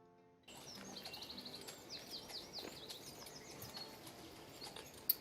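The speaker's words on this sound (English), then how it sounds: "I'm hearing birds." Morning birdsong on a farm: bright chirps and twittering calls overlapping at moderate distance after a brief quiet start, with one sharp click near the end.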